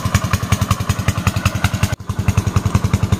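Farm engine pumping water into a flooded paddy field runs loud and close, a steady rapid chugging thump that continues throughout with a brief hitch near the middle.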